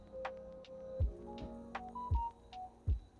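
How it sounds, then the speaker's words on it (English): A phone chime plays a short series of clear, separate electronic tones, ringing out one after another over a low background hum with no one talking. "The phone had a chime on that one there."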